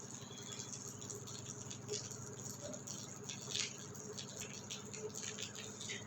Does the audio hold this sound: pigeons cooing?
no